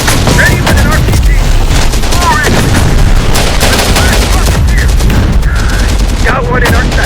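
Heavy gunfire in Terminator Dark Fate Defiance, a dense, loud barrage of shots and bursts running throughout, with distant blasts and brief voices mixed in.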